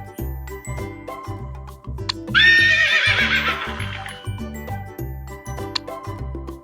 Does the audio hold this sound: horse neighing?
yes